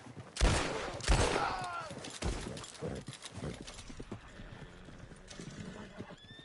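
Horse hooves clip-clop in a PS5 video game alongside horse whinnies and bursts of gunfire, loud at the start and then easing into a busier, fainter mix.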